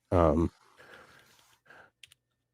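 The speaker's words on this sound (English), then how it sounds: "sorry, I'm typing. Can't you tell?" Soft typing on a computer keyboard: a run of faint, rapid clicks after a brief loud voiced sigh at the start, with a few isolated clicks near the end.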